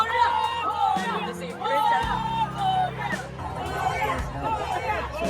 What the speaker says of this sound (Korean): 이들은 모두가 코리아 코리아를 연호하고 있었던 것이었죠.